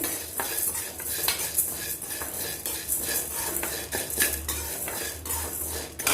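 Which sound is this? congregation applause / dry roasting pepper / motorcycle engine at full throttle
dry roasting pepper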